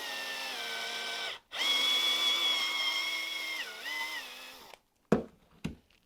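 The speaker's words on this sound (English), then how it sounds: "You'll need to drill those out so they're big enough to accept our pins" A power drill bores out the pin holes in a 3D printed slide and frame, whining steadily for several seconds with pitch dips under load, then stopping and followed by a few short clicks and knocks of handling.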